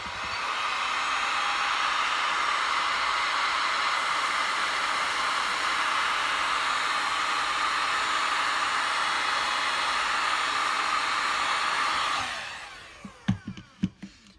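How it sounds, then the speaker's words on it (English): Heat gun blowing a steady, loud rush of hot air for about twelve seconds, then cutting off, followed by a few sharp knocks and clatters as it is set down. "careful where you put your heat gun because the tip of it is going to get hot."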